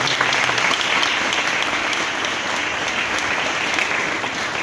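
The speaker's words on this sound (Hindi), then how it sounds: "आपको जोरदार ताली बजाकर" An audience at a Ganesh Chaturthi religious discourse claps loudly and continuously, a dense, even roar of hands filling the space.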